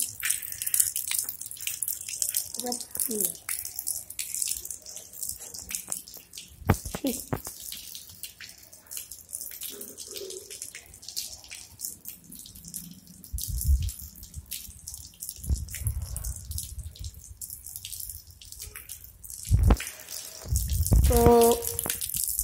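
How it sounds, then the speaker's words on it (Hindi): Water runs from a tap in irregular bursts and splashes with occasional drips during a home ice-melting experiment, fairly close and uneven, while a person speaks now and then. "देख सकते हैं पानी आना स्टार्ट हो गया"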